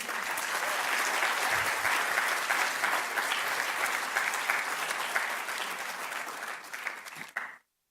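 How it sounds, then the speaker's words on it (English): Sustained audience applause fills a live-streamed event hall, loud and dense for about seven seconds before cutting off abruptly, with no talking over it. "let's give a big applause to them"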